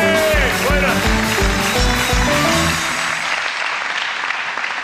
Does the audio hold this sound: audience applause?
yes